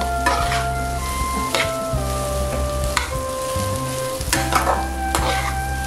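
Rice and lentils being fried and stirred with vegetables in a pan for khichuri, a loud close sizzle broken by repeated scraping strokes of a spoon, with a steady hum beneath and no talk.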